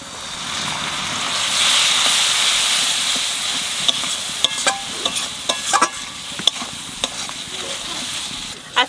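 Loud steady sizzle as a little water hits spices frying with Kashmiri chilli powder for egg curry, the hiss fading as stirring scrapes and clinks take over, close by with no talking.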